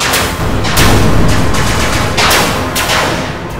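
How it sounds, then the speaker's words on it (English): Loud, dense bursts of gunfire from attacking fighter craft in a Power Rangers audio drama battle, rapid volleys and blasts overlapping continuously with no speech. "The shots find their targets."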